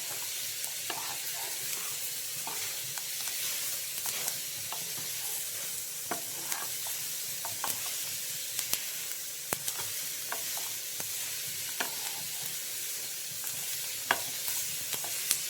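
Half a capsicum and green chillies fry in a pan for vegetable white pasta, giving a steady sizzle broken by scraping stirs and small clicks of a utensil against the pan. The sound is close and continuous, with no talking.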